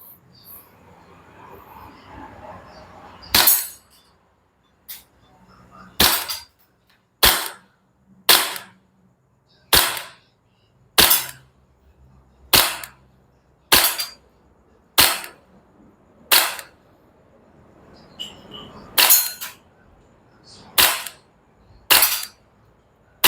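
A KJ Works CZ Shadow gas BB pistol fires about a dozen sharp, loud cracks at a 10-metre range. The shots come at fairly even intervals, with near silence between them.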